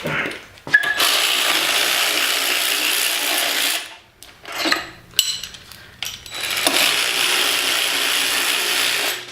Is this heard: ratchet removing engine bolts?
yes